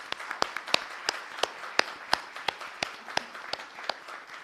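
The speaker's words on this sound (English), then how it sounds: "all of us need to have a huge clap for everyone in" A small audience at a children's award ceremony claps in a sparse, fairly regular rhythm, distinct individual hand claps rather than a thick roar, moderately close and with no talking.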